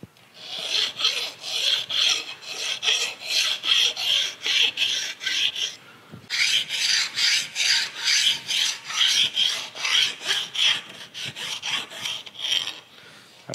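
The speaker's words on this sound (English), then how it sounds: "There is a little bit of a burr across that top, so I'll probably take a file and just knock that off." Hand file rasping a burr off the top of a steel rail fence on a surface grinder, about two dozen steady back-and-forth strokes in an even rhythm with a brief pause midway, close and fairly loud, no talking.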